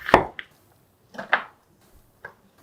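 A knife slices half an onion into thin strips on a cutting board, giving three sharp separate knocks spaced about a second apart, close and fairly loud with quiet gaps between.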